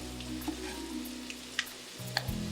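Crushed garlic drops into hot oil that already holds canned tuna for sisig, giving a soft, steady sizzle with a few sharp pops and stirring clinks.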